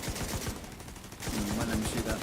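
Rapid bursts of gunfire from The Division 2 rattle in a steady rhythm, a brief lull in the middle, then another run of shots with a whining tone over it.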